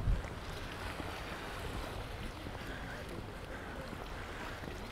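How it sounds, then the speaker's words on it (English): Sea water washes and laps against rocks along a shoreline at Camp de Mar, Mallorca, on an evening walk, a soft continuous rush with faint wind over it and a brief bump at the start. "I like to hear the sound of the water just hitting the rocks."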